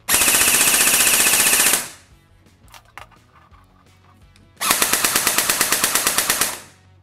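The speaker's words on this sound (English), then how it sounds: "squad automatic weapon. Lots of ammunition, lots of shots, large power consumption." Electric airsoft replica squad automatic weapon, a light machine gun, fires two long full-auto bursts of rapid, evenly spaced shots, each about two seconds, separated by a quiet pause with faint handling clicks.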